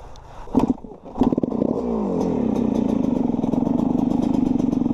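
A Yamaha dirt bike at a local berm track fires up with a few sharp clattering blips, then settles into a close, loud, steady buzzing engine drone with a rapid pulsing rhythm.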